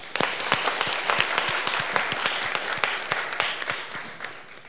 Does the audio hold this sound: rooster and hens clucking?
no